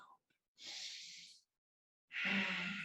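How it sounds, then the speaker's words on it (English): Two breathy, throaty ujjayi yoga exhales, air dragged along the back of the throat, with a soft rasping snore-like quality, the second louder and rougher, separated by a brief pause. "You might even drag the air along the back of the throat, causing a soft snoring sound."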